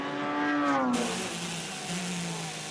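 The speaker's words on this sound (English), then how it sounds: "the Porsche drops off the jacks down towards pit out" A Porsche endurance race car in a 2016 FIA WEC race in Mexico drops off the pit jacks and accelerates toward pit exit, its engine revving loud and close, rising in pitch before a gear change and a sustained roar.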